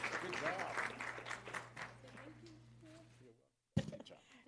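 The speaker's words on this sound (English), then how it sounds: "Let's give these young people a round of applause for all their work" Applause at a city council meeting for a group of young people, moderate clapping that thins out and stops, followed by a brief silence and a sudden bump of noise.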